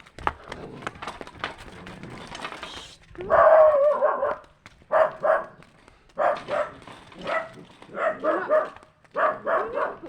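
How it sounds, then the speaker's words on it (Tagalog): Dog barking in bursts of several sharp barks with short pauses, fairly close and loud, after a stretch of muffled outdoor noise while a cyclist is chased on the road. "nakakalpas na aso"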